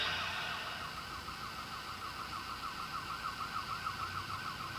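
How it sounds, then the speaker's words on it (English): A distant, faint wailing siren cycling up and down steadily over a low background hum. "Sirens."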